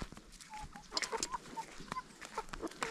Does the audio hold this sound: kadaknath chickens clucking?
yes